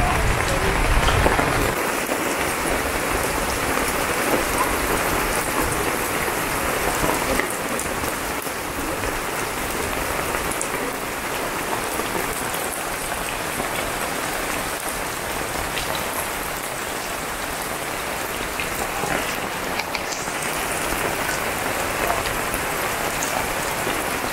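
Steady rain falls outdoors, a dense even patter on surfaces that lasts the whole stretch, close and moderately loud.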